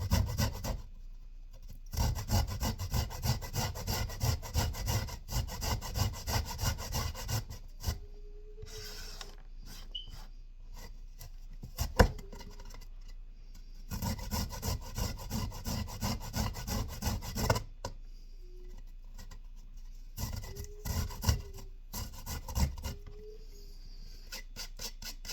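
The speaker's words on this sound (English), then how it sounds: "We're going to grab cheese grater. We're just going to grate this up." A peeled broccoli stem is grated on a cheese grater in a home kitchen, giving close, rhythmic rasping strokes in repeated runs with short pauses between them.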